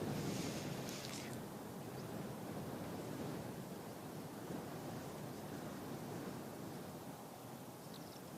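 Wind blows steadily across an open airfield at Christchurch Airport, a broad, even rushing roar with buffeting on the microphone and no clear breaks.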